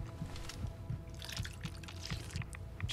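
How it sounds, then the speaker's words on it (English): Water drinking in the video game Fallout 4: a soft run of small liquid drips and trickles, repeated gulping splashes at a low, even level with no talk over them. "Just have to drink tons of water."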